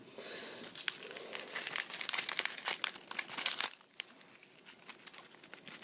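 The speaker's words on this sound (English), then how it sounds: "Boy, unwrapping shit's fun." Plastic wrap on a Magic: The Gathering Shadows over Innistrad fat pack crinkles and tears close up in dense, loud bursts, then quieter rustling follows.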